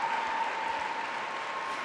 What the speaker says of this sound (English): Artem just applauding his partner